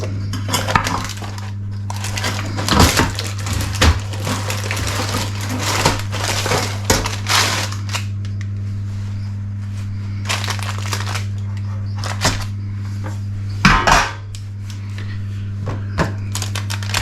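Keto Christmas stollen bites with marzipan are lifted out of a baking tray and turned over, giving a run of clinks, knocks and scrapes of metal tray against the counter over a steady low hum, with no talking.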